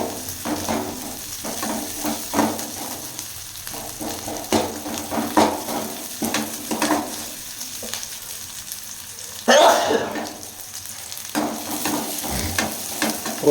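Onions and green chillies sizzle and sauté in a pan for bachelor-style noodles, a steady loud frying hiss with repeated stirring scrapes and one sharper burst of sizzle partway through.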